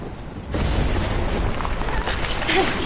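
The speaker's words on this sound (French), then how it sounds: "il y a des éclairs partout" Thunder rumbles during a lightning storm in the Life is Strange video game, a sudden deep boom that swells and rolls on as a sustained crackling roar.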